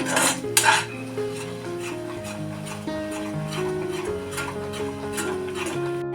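Grated ginger cooking in melted jaggery for Malvani khaja, stirred with a spoon that clinks and scrapes against the pot in a loose rhythm, with steady tonal background sound underneath.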